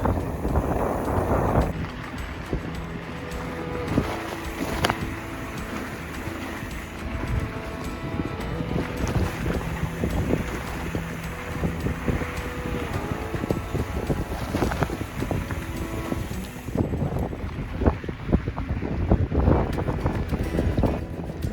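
Strong wind buffets the microphone while driving fast down a hard-packed desert track, a continuous loud roar with gusty swells and rumbling vehicle noise throughout.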